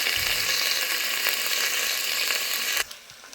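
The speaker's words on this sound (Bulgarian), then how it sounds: "Прибавяме лука. Чакаме го да се изпържи." Chopped onion frying in a pan for carrot cream soup, a steady close sizzle that suddenly cuts to quiet near the end.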